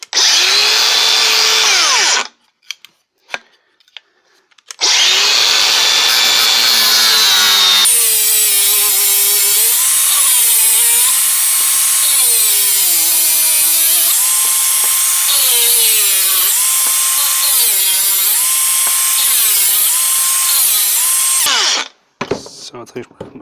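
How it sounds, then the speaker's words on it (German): An angle grinder cuts into the air filter housing of a Mercedes MB100 van, whining loudly in long bursts whose pitch dips and wavers under load, separated by brief pauses and clatter. "jetzt probieren wir das Ganze nochmal mit der Flex"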